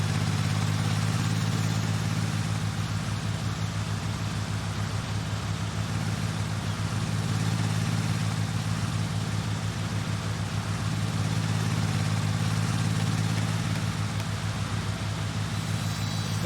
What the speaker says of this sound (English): Perfect little starting tractor.